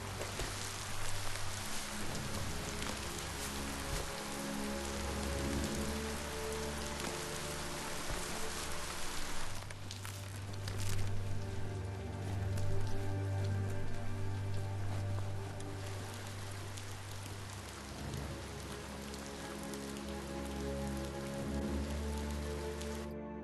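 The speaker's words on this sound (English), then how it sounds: "Might as well just dive in that rain and get wet." Steady rain falls in the Biomutant game world, a dense continuous hiss of drops on surfaces, with low tonal ambient music running underneath and no voices.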